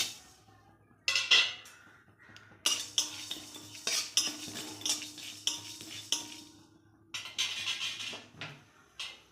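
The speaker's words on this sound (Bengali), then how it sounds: "এই যে শুকনো খোলায় আমি এটা ভেজে নেব।" Fennel seeds, cumin, coriander and two dried chillies dry-roasting in a pan, with a run of scraping, clinking stirs and light rattling of seeds against metal, close and fairly loud, with no talk.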